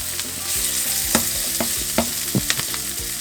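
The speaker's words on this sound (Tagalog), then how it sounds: "antayin lang po natin maging brown ng konti yung ating onion" Onion sautéing in a hot pan for chicken caldereta, a continuous close sizzle broken by several sharp scrapes and clinks from a spatula stirring it.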